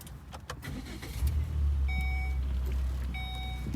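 A 2015 Volvo V60 Cross Country engine cranks and catches, then settles into a steady low idle, accompanied by a few high electronic chime beeps.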